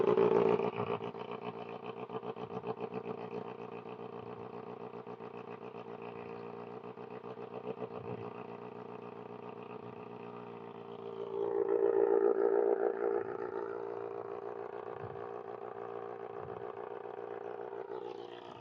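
2025 Kawasaki ZX-6R cold start with a Voodoo Racing slip-on exhaust, a close, steady idle with a deep rumble and a brief rise in revs midway before settling back to a steady idle.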